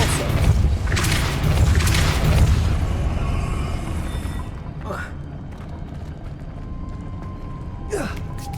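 The Depulso force-push spell is cast in Hogwarts Legacy: a loud, booming magical blast that rumbles for a few seconds, then fades into quieter ambience broken by a couple of short whooshing flares.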